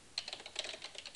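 Typing on a computer keyboard at an office workstation while entering a host name, a quick run of about a dozen light, irregular key clicks, close and fairly soft with no talking.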